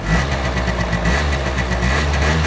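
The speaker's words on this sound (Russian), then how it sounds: "двигатель работает абсолютно не звонко" A Honda Lead 50 AF48 four-stroke scooter engine idles up close, a low, even, steady burble with faint rhythmic pulsing and no high-pitched whine, running alone without speech.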